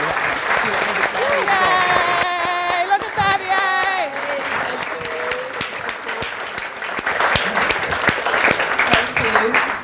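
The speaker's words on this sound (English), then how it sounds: "So put your hands together and give a huge round of applause." Audience at a book launch applauds and cheers with whoops, while voices talk and exclaim over the clapping throughout.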